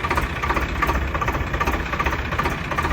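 A well-kept Swaraj 855 tractor runs alone at a steady idle, its diesel engine chugging in a fast, even knocking rhythm close by.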